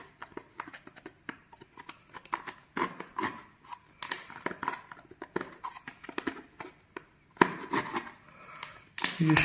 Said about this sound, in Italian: Mi serve un'altra volta le forbici